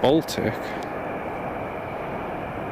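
An Air Baltic Airbus A220 taxis for departure at a snowy, freezing Riga airport, giving a steady distant jet rumble, with a voice talking briefly at the start.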